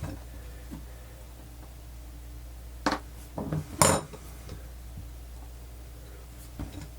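A few small metal screws from a Wiha 26192 long screwdriver set are handled, giving a couple of brief clinks and rattles close up against a quiet room.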